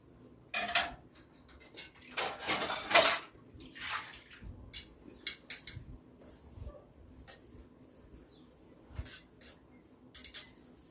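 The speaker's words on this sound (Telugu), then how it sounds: "పళ్ళాలు, గ్లాసులు, కాఫీ గిన్నె, టీ గిన్నె, మజ్జిగల గిన్నెలు, పెరుగు గిన్నెలు" Dishwashing at home, with plates, glasses, coffee and tea vessels, buttermilk and curd bowls being rinsed and clanked together, heard as bursts of clattering metal and splashing water that come and go over a steady low background.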